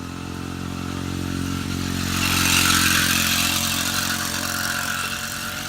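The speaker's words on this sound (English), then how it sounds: "Guy's on a scooter, a motorized scooter." A motorized scooter's small engine buzzes past near a creek, rising in loudness toward the middle and then easing off as it moves away, with no talking.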